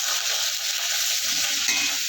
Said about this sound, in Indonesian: sayur kailannya kita tumis sampai setengah matang dulu